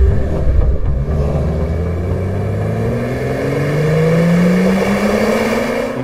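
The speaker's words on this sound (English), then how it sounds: "driving by and acceleration, we optimize the product further until this unique BMW M Sport sound is achieved" BMW car fitted with an M Performance silencer exhaust accelerating, a loud, close engine note rising steadily in pitch through the gears with a deep sporty rumble.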